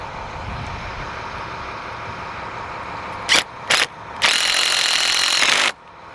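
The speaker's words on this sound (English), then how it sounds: "you're going to need to use a drill because this is pretty tough to get in." A power drill drives screws into the end cap of a Solera slide-out awning on a 2007 Four Winds Chateau RV: two quick close bursts, then one longer steady run of about a second and a half.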